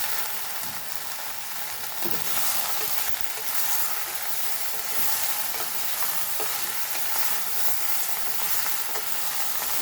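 Okra and tomato stirred in a frying pan for a Goan dish, with a steady sizzle broken by repeated spoon scrapes and light knocks against the pan.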